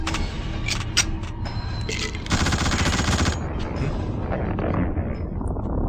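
Rapid automatic gunfire in The Suffering game, a dense burst of shots lasting about a second amid scattered single reports and a rumbling battle background, loud and close.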